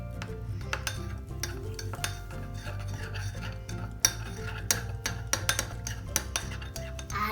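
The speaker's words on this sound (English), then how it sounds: "Stir till combined." Utensil stirring a salad seasoned with salt and pepper in a bowl, repeated close clinks and scrapes in an uneven rhythm with no talking.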